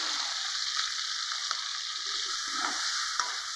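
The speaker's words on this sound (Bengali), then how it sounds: "এখন আমি চিংড়ি মাছগুলো ভেজে নিব।" Shrimp coated with salt and turmeric fry in a pan, a fairly soft, steady sizzle with a few sharp scraping clicks of stirring spaced through it, heard alone without speech.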